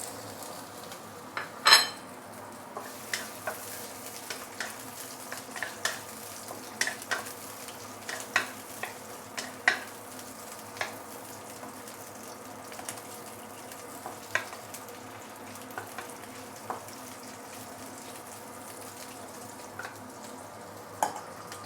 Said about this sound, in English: We're going to saute the prawn first.